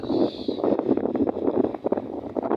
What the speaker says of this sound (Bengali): আর বাহিরে অনেক বাতাস